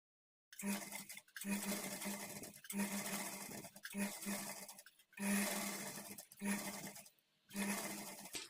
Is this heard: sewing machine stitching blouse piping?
yes